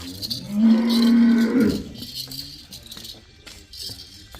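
A Jersey cow lets out one long, loud moo near the start, followed by quieter rattling and clinking sounds, on a dairy farm.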